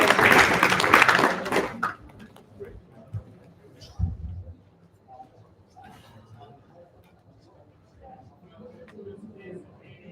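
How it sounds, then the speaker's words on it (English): A conference audience at zkDay Paris 2023 applauds, with dense, loud clapping for the first two seconds that quickly thins to a few scattered claps and room noise. "Round of applause for"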